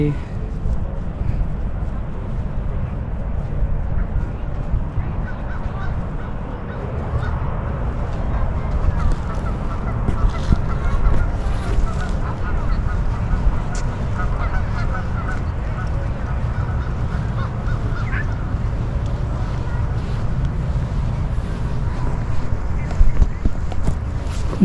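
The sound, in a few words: ducks honking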